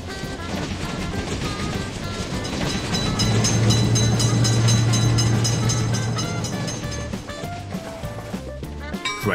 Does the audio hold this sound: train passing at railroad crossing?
yes